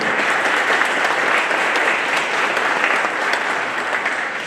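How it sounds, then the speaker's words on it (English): Steady, dense applause from a large crowd at a graduation ceremony fills the whole stretch at an even, fairly loud level, with no voices rising above it. "let's give him a warm round of applause as well"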